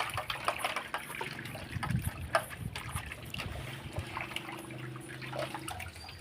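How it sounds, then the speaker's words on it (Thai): Soft splashing and trickling as food is rinsed in clean water, faint and close, with irregular little pours and sloshes. "ล้างด้วยน้ำสะอาดเนาะ"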